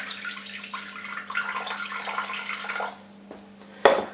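Lukewarm tap water running into a container for burger bun dough, a steady splashing stream that stops abruptly near the end, followed by a brief clink.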